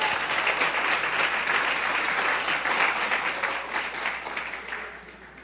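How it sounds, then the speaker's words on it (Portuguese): A church congregation at Igreja de Nova Vida do Catete gives a sustained round of applause. The dense, even clapping fills the room and fades away toward the end. "Dê uma salva de palmas ao Senhor."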